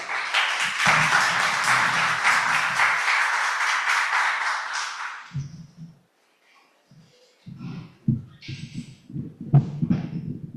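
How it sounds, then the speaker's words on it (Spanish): A crowd applauds in a dense, steady burst for about five seconds, then it stops and a few scattered sounds and brief voices follow. "Les pido un aplauso de bienvenida"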